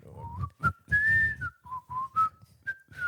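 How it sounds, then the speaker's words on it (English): A person whistles a melodic tune in short phrases with brief gaps, fairly close and clear, no talking. "a fair amount of whistling in the break, trying to work out what the song is"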